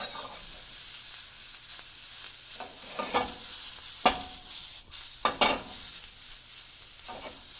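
Vegetables fry and wilt in a hot pan with a soft, steady sizzle, broken by occasional louder bursts of stirring and scraping.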